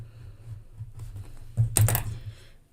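A knife cuts lengthwise down the center of a vanilla bean on a board, a soft scraping slice building to one short, louder crisp stroke near the end, close and alone.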